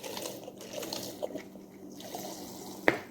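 A quart jar being filled with liquid: a soft, quiet trickle and gurgle that runs steadily for a few seconds, ending in one brief clink near the end.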